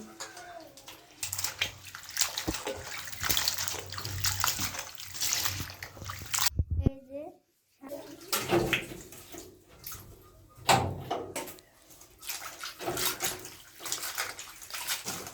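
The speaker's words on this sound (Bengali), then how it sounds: "তরকারির সবজি ধোয়া শেষ গুলো ধুয়ে নিতেছে" Vegetables for a curry are washed under running water in a village kitchen, with irregular splashing and pouring sounds that surge and pause, then resume after a brief silence.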